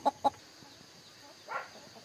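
Local chickens kept penned inside a house give two quick, sharp clucks close by, then a softer drawn-out call after a brief pause.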